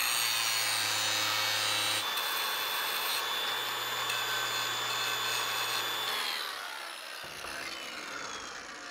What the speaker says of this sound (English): So we'll have to grind this down a little bit.